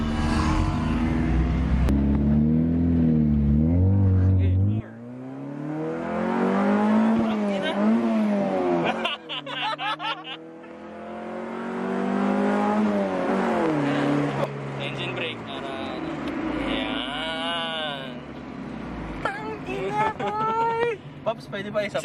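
A 1995 Honda Civic ESi engine revs hard repeatedly, pitch climbing and falling in sweeping pulls toward VTEC, loud and close, while people talk and shout over it.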